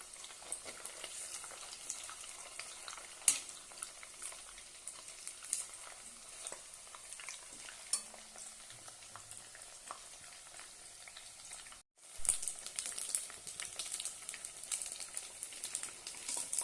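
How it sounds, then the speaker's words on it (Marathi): Leftover-rice pakoras deep-frying in hot oil, a steady close crackle and sizzle that runs unbroken, with a brief dip near the end before the bubbling picks back up. "मस्त असे आपण खरपूस तळून घेऊया"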